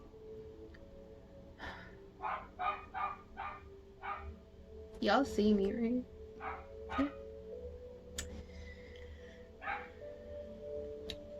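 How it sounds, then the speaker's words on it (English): A neighbor's dog barks in a series of short, separate yaps at a moderate distance, interrupted by a louder whining burst partway through, while a person talks over it. "that's my neighbor's dog"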